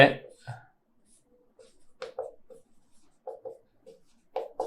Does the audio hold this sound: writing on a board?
yes